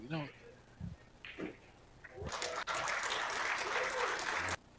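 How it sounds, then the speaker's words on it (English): Audience applause breaks out at a Las Vegas men's pool tournament, swelling after a few seconds into steady, dense clapping that holds for about two seconds before stopping abruptly, following a brief stretch of quieter voices and table sounds. "some applause coming from table number 1"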